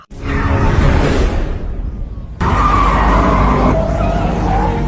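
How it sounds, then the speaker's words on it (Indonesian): Car tires skid and squeal loudly during wild driving maneuvers in a film, with a roaring engine and whooshing passes, a brief drop, then another sustained screeching skid. "kita akan melihat skill Morgan dalam mengemudi yang membuat sang istri takjub dengan manuver-manuver edan yang dilakukan oleh Morgan"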